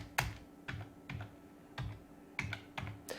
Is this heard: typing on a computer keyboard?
yes